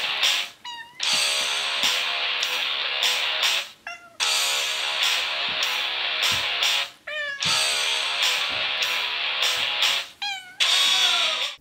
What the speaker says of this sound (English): a cat with an apparent taste for collective soul.